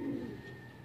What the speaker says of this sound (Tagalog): tapos na ako magpainom at magpatukan ng ating mga alagang kalapate